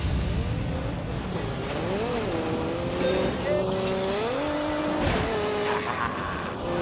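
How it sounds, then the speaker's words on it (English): Turbocharged 2-litre Ford EcoBoost engine tuned to nearly 300 horsepower, racing in The Grand Tour Game: a loud steady drone whose pitch rises and falls through gear changes, with a voice talking over it. "I've only got a 2-litre engine. However, it's a Ford EcoBoost, so it's turbocharged"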